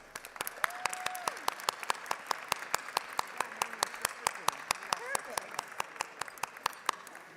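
Applause fills a legislative house chamber, steady overlapping hand claps at moderate distance, with voices audible beneath the clapping throughout.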